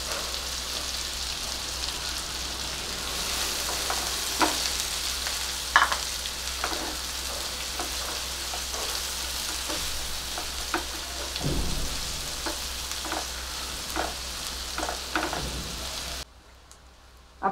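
Chopped onion sautéing in hot oil with a pinch of asafoetida for restaurant-style bhindi masala, a steady close sizzle with scattered crackles and occasional stirring scrapes, no voices, cutting out near the end.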